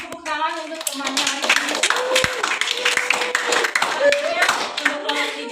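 Classroom clapping for a student in a microteaching lesson, a few seconds of brisk, uneven hand claps from the class, with voices and children's chatter mixed in.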